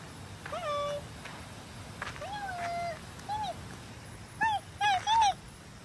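A cat near a river resort in Kalumpang, Selangor meows several times, drawn-out cries followed by a quicker burst of three short, louder meows, close by over faint background noise.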